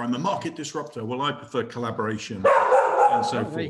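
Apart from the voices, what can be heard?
dog barking excitedly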